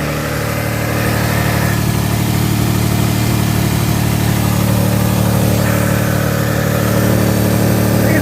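A black 1999 Toyota Camry V6 with a newly completed exhaust idles up close, giving a steady, loud low hum with even engine harmonics and a constant throaty drone, with no voices.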